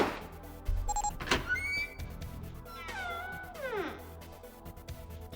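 A cat meows twice in quick succession, rising then falling, close and clear, after a few sharp knocks and clicks in a quiet room.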